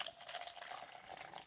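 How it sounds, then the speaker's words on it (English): Water poured into a clear cup or glass for growing a kitchen garden: a brief, faint trickling splash lasting about a second and a half. "We're going to pour some water in."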